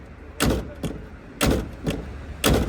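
A car's front driver-side door, just repaired and adjusted, is shut in a garage: three solid thuds land about a second apart, each close and loud, over a low background hum with no talking.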